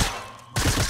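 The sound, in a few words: gunfire in Fortnite, from a video game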